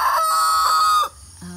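A rooster crows in a long, loud, drawn-out call close by, then lets out a short cluck or two.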